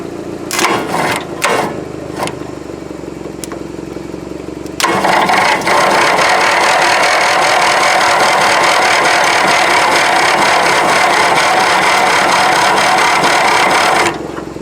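Briggs and Stratton twin-cylinder engine pulled from a scrapyard, cranked repeatedly in a start attempt: a few short bursts, then a loud, steady cranking whir running for about nine seconds before stopping, without catching.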